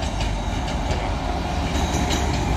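A train from Kaeng Khoi to Bangkok on Thailand's southern line rolls past close by with a loud, continuous rumble and faint rhythmic clacking of wheels on the rails.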